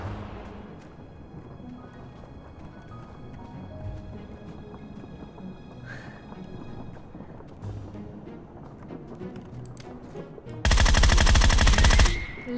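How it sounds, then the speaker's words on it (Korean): Video game gunfire with three players left in the match: a loud, continuous burst of shots lasting over a second near the end, standing out above a quiet ambient backdrop. "총소리 저렇게 크게 내면은"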